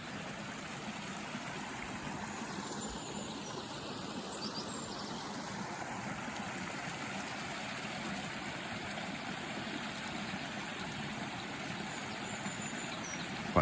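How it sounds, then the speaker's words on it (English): The River Kinder flows past a wild camp in the Peak District, a steady, soft broadband rush of moving water heard at moderate distance throughout, with no voices. "you've got the sound of the stream, oh, sorry, the river Kinder"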